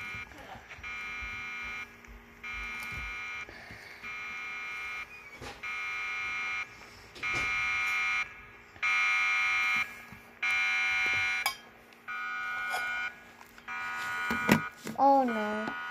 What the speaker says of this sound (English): An alarm going off? I wonder what that alarm is.